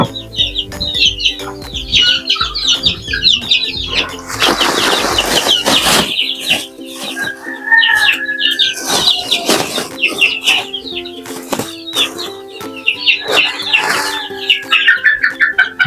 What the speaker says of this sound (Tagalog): Dito na tayo sa mga sisiw natin na Texas mga idol.